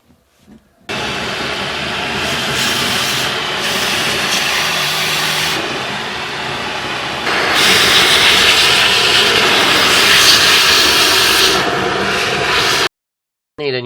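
A vacuum cleaner runs during a desk clean-up, a loud, steady whooshing roar that swells louder about halfway through, then cuts out briefly just before the end.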